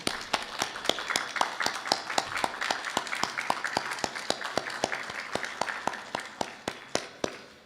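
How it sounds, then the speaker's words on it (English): An audience at a Brightpoint Community College honor society induction gives a round of applause for families and friends: a sustained crowd ovation with a dense bed of many hands and a regular stream of crisp, nearby claps running the whole time. "you all give them a big round of applause for the support that they've provided to you"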